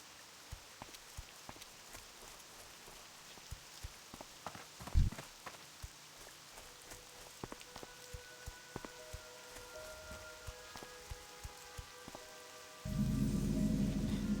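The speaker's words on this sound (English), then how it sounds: "Is that a thunderstorm or just heavy rain" Heavy rain in World of Warcraft Classic falls as a steady, even hiss with scattered drop ticks and soft step-like taps, ending in a sudden louder burst near the close.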